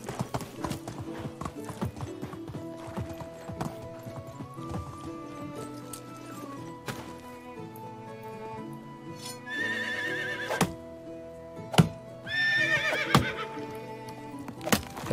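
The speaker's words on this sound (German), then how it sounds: "Ganz ruhig, Pferdchen." Horse in the Medieval Dynasty video game whinnying twice amid steady clip-clopping hooves, layered over continuous game music and ambience at moderate loudness.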